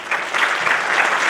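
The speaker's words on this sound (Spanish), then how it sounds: "Les recibimos entonces con un fuerte aplauso a Nancy Ochoa" An audience at a conference on tourism capacity development claps to welcome a speaker. The applause is a loud, dense burst, close and continuous over its short span.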